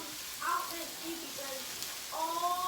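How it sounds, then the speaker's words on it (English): Soft sizzling of vegetables cooking on a hot home hibachi griddle, a quiet steady hiss under someone talking. "I'm just going to let them sizzle, simmer"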